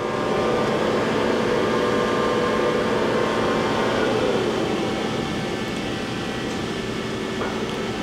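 A 2007 Johnford ST-40G-CF CNC lathe spindle runs steadily in its third gear range at about 150 RPM. The machine gives a continuous, fairly loud mechanical hum and whine with several sustained tones, and no one speaks over it.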